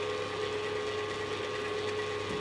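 A stand mixer running steadily at speed 1 while mixing butter-rich pastry dough, a continuous mechanical whir with a rhythmic ratcheting, gear-like clatter, held at an even level throughout with no voices.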